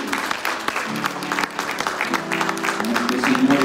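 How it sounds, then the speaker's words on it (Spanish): A church congregation claps loudly and steadily during a prayer service, with sustained musical tones running beneath the dense, continuous applause. "Dale un aplauso fuerte,"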